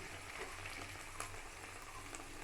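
Boiled peas tumble into a hot pan for a mushroom and pea curry and get stirred, giving a steady, even sizzle of frying with faint scraping, close and continuous, no voices.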